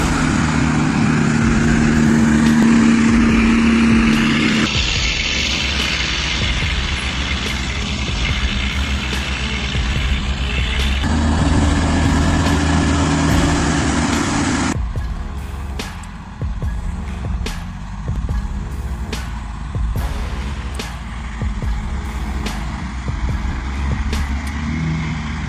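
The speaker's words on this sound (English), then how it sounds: "When trucks loaded with logs leave the forest," Heavy off-road log trucks rumble out of a forest with a steady loud engine drone, the tone shifting as they move, with an air-brake-like hiss partway through.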